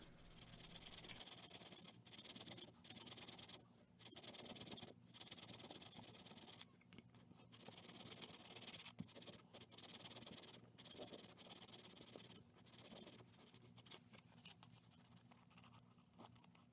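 Bone guitar pick hand-sanded on 250 grit sandpaper: repeated scratchy rasping strokes in bursts with short pauses between, close and fairly loud, with no voices.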